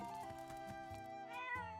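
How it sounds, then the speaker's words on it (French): A cat meows in the video game Zelda: Echoes of Wisdom, a short rising and falling mew over steady game music, quiet and clear with no talking. "C'est vraiment un chat, c'est bon."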